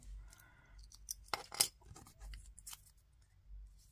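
Scissors snip through leftover scraps in a craft workshop, a few quiet close-up cuts and rustles with a sharper snip in the middle, otherwise near silence.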